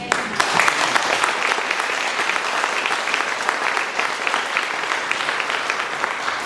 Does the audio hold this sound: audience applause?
yes